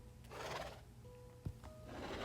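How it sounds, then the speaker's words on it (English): A baby zombie horse in the video game Minecraft gives a soft, quiet whinny in two breathy neighing bursts, with a faint thud between them and a low background hum. "Oh, a baby zombie horse."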